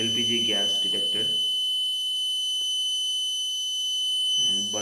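An LPG gas leak detector built around an MQ6 sensor sounds its buzzer as a steady, shrill electronic tone that runs the whole time, with a person talking over it at first and again near the end.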